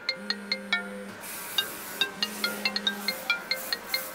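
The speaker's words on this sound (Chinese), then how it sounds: "你的电话。" Mobile phone ringtone playing a bright, bell-like melody of short repeated chiming notes over sustained low tones, fairly quiet and heard alone in a room with no talking.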